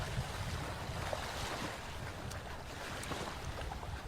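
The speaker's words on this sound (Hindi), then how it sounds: "किनारे पर बड़ी चट्टानों से टकराते हुए समुद्र की घुर्राने की आवाज" Sea surf rolling against large rocks on a shore, a continuous low, rumbling wash of water with wind noise, steady and moderately distant, with no voices.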